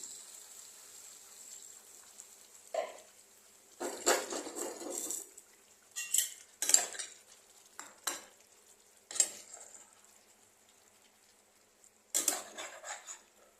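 A pan of shol fish curry with ground cumin and ginger paste is stirred after water goes in, with bursts of spoon-on-pan scraping and clinking separated by quiet gaps over a faint, steady sizzle.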